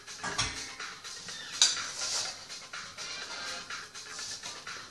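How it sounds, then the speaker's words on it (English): Back of a metal teaspoon scraping and spreading butter across a lined pan, with soft clinks and brushing scrapes that come and go, close and fairly quiet. "Then I use the back of the teaspoon. Just to spread it out."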